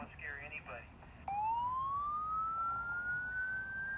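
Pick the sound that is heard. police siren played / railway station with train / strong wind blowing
police siren played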